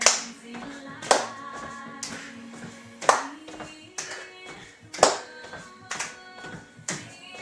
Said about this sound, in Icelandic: Þetta er klappað eða byrjum að klappa.